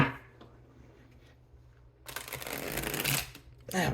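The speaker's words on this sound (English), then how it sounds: "Let's see if I can get a good shuffle in here" A tarot card deck being shuffled, with a short rustle followed by a longer, louder riffling burst of cards and a final brief flick, all heard up close.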